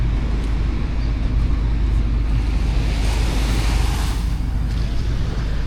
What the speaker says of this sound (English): there's some very gentle waves coming in